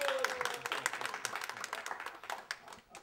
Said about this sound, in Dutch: ik denk dat ze daar wel een applaus voor geven